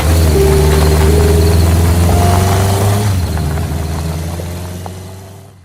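A motorcycle engine arrives close by, running loud and steady, then slowly fades as it settles.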